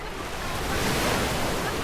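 Ocean surf washing onto the shore at Al Aqqah Beach, Fujairah, at sunrise on a holiday morning, a steady broadband roar with light wind buffeting the microphone.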